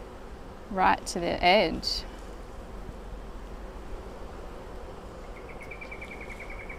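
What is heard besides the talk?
honey bees buzzing at an open Flow Hive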